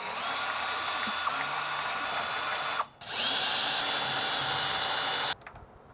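A power drill whirs steadily while backing screws out of a door's hinges. It cuts off briefly about halfway through, then runs again at full speed before stopping, close by and alone.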